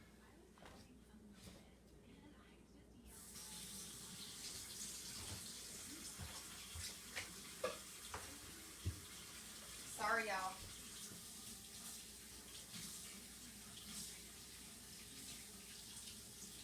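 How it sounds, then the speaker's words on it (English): Hot water runs from a tap into a sink in a steady broad rush that starts a few seconds in and continues to the end, with small clatters and someone briefly talking over it. "let me get some hot water"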